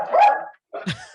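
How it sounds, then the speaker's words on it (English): A dog barks in a small studio, two short bursts separated by a brief silence, close and fairly loud, with a whimpering edge on the second. "with a barking dog"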